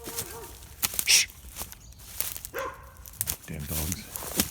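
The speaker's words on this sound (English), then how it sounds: "Damn dogs." Dogs bark in bursts at a site where equipment failed, some yaps loud and close, others farther off, with footsteps and a man's speech mixed in among them.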